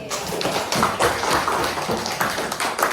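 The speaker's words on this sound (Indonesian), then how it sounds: "Tepuk tangan dulu buat Azri" Sixth-grade students in a primary school classroom clap for a classmate, a brief round of fairly close, uneven hand claps with a few sharper individual claps standing out.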